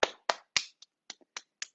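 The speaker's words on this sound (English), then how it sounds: "nice clapping" Hands clapping in a guided movement practice, seven crisp claps in an uneven rhythm, the first three loudest and the rest lighter, heard alone at close range with no talking.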